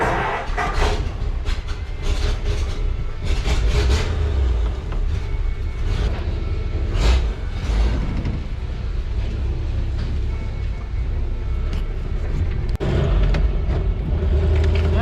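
An antique 6 hp hit-and-miss engine with a leak runs nearby, a loud low rumble broken by regular thudding firing beats and metallic clatter at a steady pace, with no voices.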